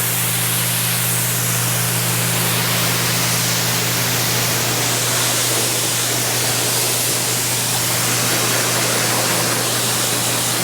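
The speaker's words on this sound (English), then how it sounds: "spray it off and get the job done." A steady, continuous hiss of cleaner spraying in a Subaru WRX engine bay runs without pause, over a low constant hum.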